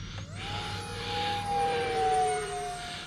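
An E-flite Habu 50mm RC ducted-fan jet whooshes past overhead, its steady whine rising and shifting in pitch as it flies by, loud and clear with no voices.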